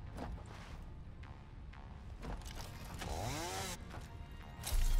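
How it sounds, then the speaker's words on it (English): Chainsaw cutting in the video game Satisfactory, a steady buzzing drone that runs through the whole stretch with a rising whine midway and a louder surge near the end. "Now, take a chainsaw to everything."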